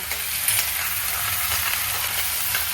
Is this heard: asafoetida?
yes